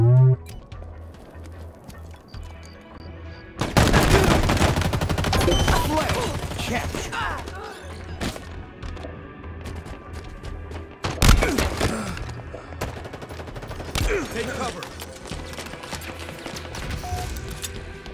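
Bursts of gunfire in a Halo Infinite Capture the Flag match on the Behemoth map, sharp cracking volleys arriving in several loud clusters over a steady game soundtrack, with no talk.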